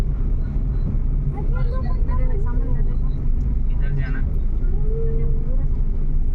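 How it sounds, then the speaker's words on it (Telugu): Sunday road traffic of auto-rickshaws, motorbikes and cars beside the crowded Manginapudi beach near Machilipatnam makes a continuous low engine rumble, with voices talking over it throughout. "ఆటోలు, బైక్స్, కార్లు బాగానే ఉన్నాయి"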